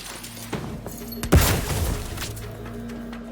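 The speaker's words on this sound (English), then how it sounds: "Explosion imminent!" Explosion in the video game The Outer Worlds 2: a sudden booming blast with a crashing burst that fades over a couple of seconds, loud against a low background hum.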